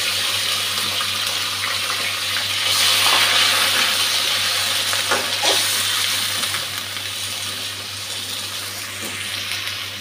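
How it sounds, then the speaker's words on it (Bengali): Onion and green chili fry in a pan, a continuous loud sizzling hiss that swells briefly in the middle, with a few scraping stirs and no voices. "এখন পেঁয়াজ আর কাঁচা লঙ্কাটা দিয়ে দিচ্ছি"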